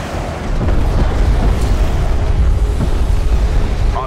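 Deep, rumbling explosions from an enemy airstrike in the space strategy game Homeworld: Deserts of Kharak roll on continuously as a heavy, loud low-end barrage with no speech.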